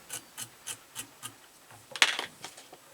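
Fly-tying dubbing on a Mosaic Leech is scraped with a bit of Velcro in a row of short, soft rasping strokes, about one every third of a second, close and quiet with a slightly stronger stroke near the end.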